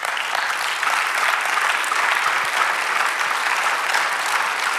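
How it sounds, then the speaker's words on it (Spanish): A church congregation claps together for the Lord during a Spanish-language sermon, a steady, even wash of applause from a roomful of people with no talk over it. "Den un aplauso al Señor"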